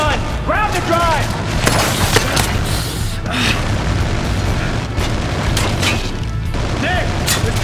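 Minigun fire and explosions in a video game combat scene, with heavy booms and rattling bursts going on while voices shout over the din.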